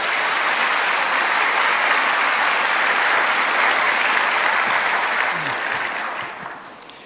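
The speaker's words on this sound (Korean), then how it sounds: "우리 큰 박수로 환영하며 말씀을 듣겠습니다." Church congregation bursting into loud, sustained applause to welcome the pastor to the pulpit at a dawn prayer service, steady dense clapping that fades out toward the end.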